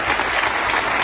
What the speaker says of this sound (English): there goes the celebration where they're applauding and being celebrated